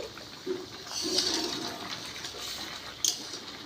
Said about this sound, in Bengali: চিনির শিরাটা দেখো একেবারে টকবগিয়ে ফুটছে আর এই অবস্থায় আমি কিন্তু এই পিঠেগুলোকে দিয়ে দেব